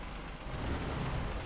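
A tractor engine in a farming video game runs with a steady, broad rumbling drone, continuous and fairly even, with no talk over it.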